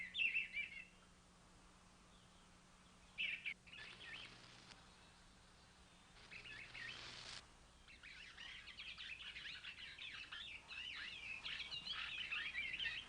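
A bird calls out in an open field with repeated chirps and tweets, faint at first and then growing more continuous and busier toward the end, with no voices.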